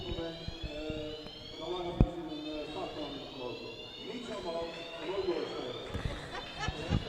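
A fire alarm sounds in a sports hall during a game, a steady high tone running under crowd chatter and laughter, with occasional thuds of play.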